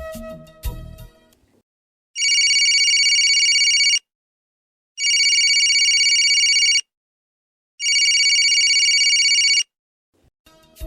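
A telephone rings in three long, loud, steady bursts separated by short pauses, with no voices over it.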